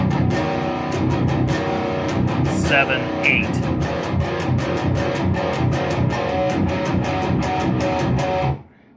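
An electric guitar plays the verse riff, section C, as a dense, loud, driving run of picked notes. A voice counts briefly partway through, and the playing cuts off at the end.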